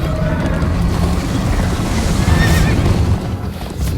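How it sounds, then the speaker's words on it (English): A horse in Minecraft: Story Mode whinnies loudly over a rushing, wind-like backdrop with hoofbeats, with a second shorter neigh near the end. "First time on a horse here."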